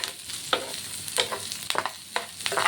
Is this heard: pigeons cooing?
no